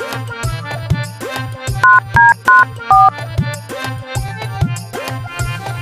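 A phone rings while a call to a bank is placed, a loud electronic ringtone melody repeating in short patterned bursts over several seconds, with no talking.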